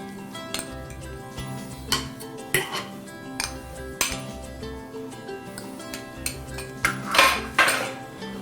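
Natural chunky peanut butter cookie dough being mixed in a bowl, with irregular clinks and scrapes of a utensil against the dish, some louder knocks near the end, close by with no talk.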